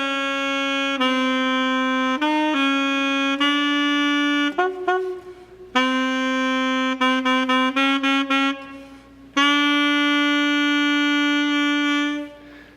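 Matt Gill, a lone reed player, performs six bars of a theater score, giving clear, close sustained tones with short detached notes and small breaks, with nothing else playing.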